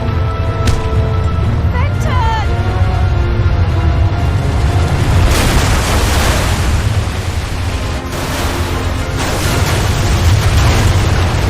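A huge rumbling roar of an avalanche explosion in the video game Lost Horizon, loud and broad, surging in waves over several seconds with a few game tones mixed in.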